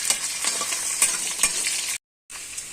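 Chopped onions and green chillies fry and get stirred in a pan for borugula upma. The hiss and crackle of the oil is steady and close, with repeated scraping strokes of the stirring, and there is a brief silent gap near the end.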